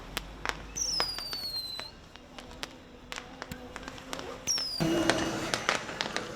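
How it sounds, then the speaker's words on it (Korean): Fireworks pop and crack repeatedly on a beach beside a residential area, at varying distances, some sharp and near, others faint, with whistling rockets rising before bursts and a steady outdoor hum beneath. "해변의 폭죽은 쉴 새 없이 터졌고"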